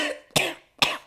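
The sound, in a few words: cough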